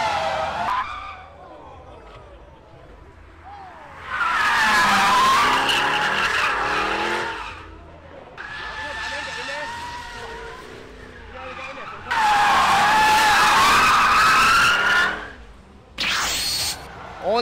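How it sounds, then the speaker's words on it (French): Jaguar cars drifting in a drift zone at the Goodwood Festival of Speed, with loud bursts of squealing, skidding tires and revving engines in two long passes separated by quieter crowd ambience. "On arrive dans la zone drift parce que pourquoi pas? Je sais pas, ça a l'air d'être que des Jaguars."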